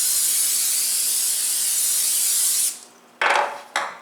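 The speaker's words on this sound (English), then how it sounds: "spray an 8 by 8 inch baking dish with vegetable spray" A can of vegetable cooking spray hisses continuously onto an 8 by 8 inch baking dish for nearly three seconds, then stops, followed by two short bursts of spray.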